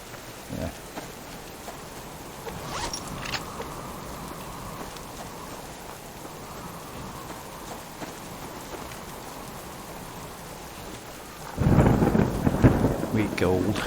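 Steady rain hisses throughout a video game scene, with faint rumbles early and a loud thunderclap breaking near the end, no one talking.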